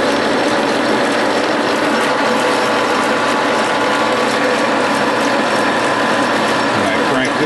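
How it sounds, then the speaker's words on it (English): A hand-cranked machine turning half-inch Delrin rod down to three-eighths, giving a continuous, close mechanical grinding and ratcheting whir with no pauses. "When I crank this real slow, it's going to turn that 1/2 inch Delrin down to 3/8."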